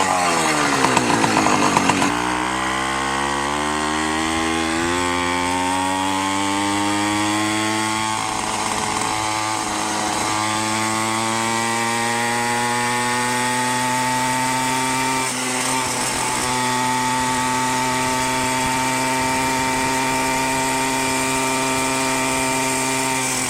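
A Minarelli scooter engine fitted with a 110 kit starts with a sputter, then revs up into a high, buzzy two-stroke whine and holds a loud, steady drone with small throttle swells, close by and with no talking.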